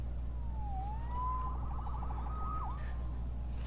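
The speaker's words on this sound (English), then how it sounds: "Saved by the siren." Police siren in a Spider-Man video game, a rising and falling wail that breaks into quick yelping sweeps, moderately loud over a steady low background hum.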